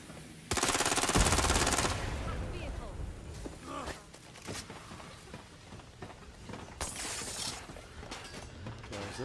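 Burst of rapid automatic gunfire in the video game Watch Dogs Legion, loud and sustained for about a second, followed by scattered shots, impacts and game effects, with a voice talking underneath.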